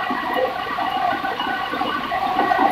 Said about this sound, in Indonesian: arusnya lumayan kencang, kuat seperti arus kali.